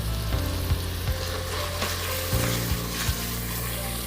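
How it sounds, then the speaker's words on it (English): Tomato paste sautéing in a pot as a base for bacon and brown sugar baked beans, a loud continuous sizzle with a few spoon strokes scraping through it, close up with no talk. "And then we're just gonna saute the tomato paste."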